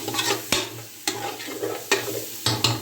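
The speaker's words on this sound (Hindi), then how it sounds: "इसको आपने अच्छे से स्टिर फ्राई करना है" Bell pepper and carrot stir-frying in a hot pan, a steady sizzle broken by sharp scrapes and clacks of the spatula roughly every half second.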